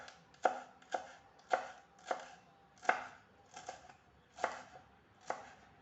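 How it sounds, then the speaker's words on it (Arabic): A knife chops fresh parsley and coriander on a board in about eight evenly spaced, crisp strikes, close and fairly quiet, with no voices. "اول حاجه غادي نديرها غادي نقطع هذا الربيع هذا هكذا"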